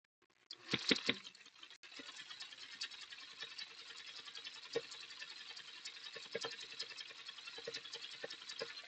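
A sewing machine stitching a backpack runs as a steady rapid mechanical patter after a brief louder burst of handling at the start, fairly close and alone.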